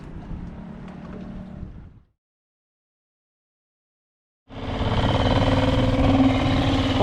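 Small outboard motor on a sailing yacht's dinghy off Corsica, running steadily for about two seconds, then a gap of silence before a louder, closer engine drone resumes and holds to the end.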